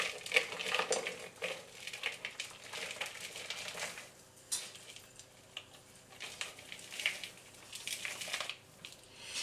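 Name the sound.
chopped chocolate added to heating cream in a pot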